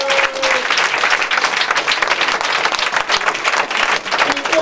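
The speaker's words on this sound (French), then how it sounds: "Est-ce qu'on peut acclamer Jésus-Christ?" A church congregation applauds and cheers for Jesus Christ during a prophet's sermon, a loud sustained wave of dense clapping with a few raised voices, steady throughout.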